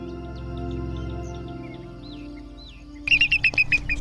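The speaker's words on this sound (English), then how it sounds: "flocks of sparrows, starlings, and insectivorous birds continuously flitted from branch to branch" Birds chirping in an acacia tree, sparrows and starlings among them, with thin scattered whistles and tweets over a low rumbling background, then a louder close burst of rapid repeated chirps near the end.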